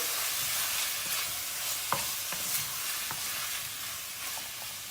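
A spoon stirs fried peppers dusted with a spoonful of flour in a pan, scraping with a few soft clinks over a steady background sizzle, close and moderately loud, with no talking.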